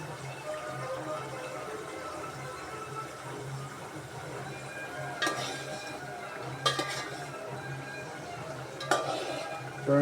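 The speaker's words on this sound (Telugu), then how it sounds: "చూడండి, టమాటా బాగా నూనెలో బాగా ఉల్లిపాయ టమాటా బాగా ఫ్రై అవ్వాలి" Onion and tomato frying in oil hiss quietly and steadily in a pan, broken by a few sharp metallic scrapes and clinks of stirring near the end.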